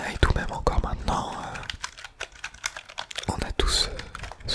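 Soft computer keyboard typing as an ASMR trigger, a run of close, crisp key clicks at an irregular rhythm with a few louder taps, set against a quiet whispering voice.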